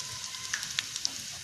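Chopped garlic, dried red chilli and asafoetida sizzle in hot oil, a close, steady frying hiss dotted with sharp little crackles and pops, no voices.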